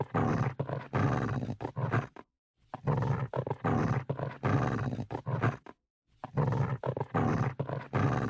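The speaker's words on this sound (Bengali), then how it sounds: "বাবা বাবা বাঘ" A cartoon tiger lets out loud, close roars in three long bursts separated by short silences, with no other sound around them.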